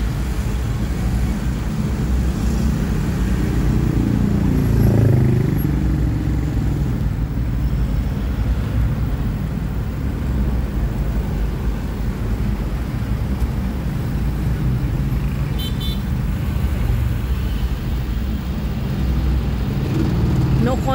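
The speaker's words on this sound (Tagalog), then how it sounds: "C5 traffic." Heavy road traffic on C5 Avenue near Taguig makes a loud, steady rumbling drone of engines and tires that barely changes over the whole stretch.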